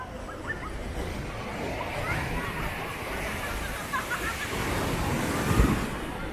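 Steady broadband surf roar of ocean waves, with wind buffeting the microphone and a louder wash near the end.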